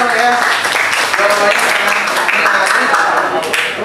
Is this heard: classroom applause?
yes